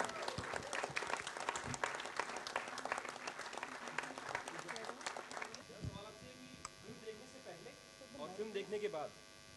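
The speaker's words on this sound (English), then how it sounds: "can we have a round of applause for all of them?" An audience at a film trailer launch event for Margarita with a Straw gives a full, dense round of applause for about five seconds. It then cuts off into a room hum with a voice speaking briefly near the end.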